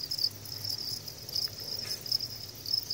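Farmed crickets raised for harvest trill in a steady, high, pulsing chorus that carries on without a break, faint and close, with a low background hum beneath and no talking.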